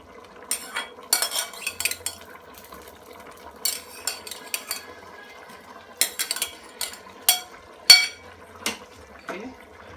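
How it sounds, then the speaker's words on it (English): Sliced carrot strips tumble into a pan of vegetable curry sauce, with repeated utensil clatter and stirring scrapes in irregular bursts, close and moderately loud, no talk. "So I'm adding my carrots."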